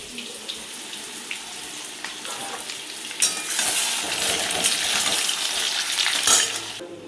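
Meat fat heating in oil for meat-fat fritters in a home kitchen, a broad hissing sizzle that grows louder and denser partway through and holds steady, with no talking.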